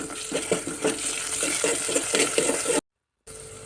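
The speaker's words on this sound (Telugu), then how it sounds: "ఇప్పుడు అల్లం వెల్లుల్లి పేస్ట్ను వేయించుకోవాలి" Ginger garlic paste frying in a pan with onions and green chillies makes a continuous sizzle broken by scraping stirs, then cuts off abruptly near the end.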